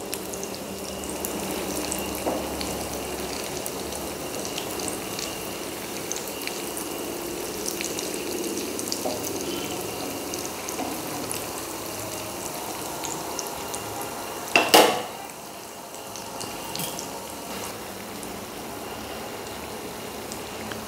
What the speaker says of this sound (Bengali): এবার দেখুন একটা পিঠ হয়ে গেছে, আবার একটা পিঠ আমি উল্টে দিচ্ছি।